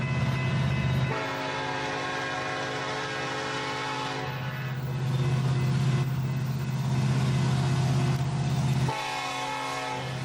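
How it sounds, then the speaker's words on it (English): A Norfolk Southern railfan train rolls past in a loud, sustained rumble of wheels and cars, with a horn sounding in long tonal blasts and nobody speaking over it. "all right, there's a train."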